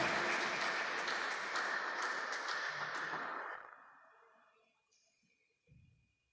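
A church congregation at a Baptist service claps in a broad, dense wash of applause that holds for about three seconds, then fades away into near silence, leaving a brief faint thump near the end.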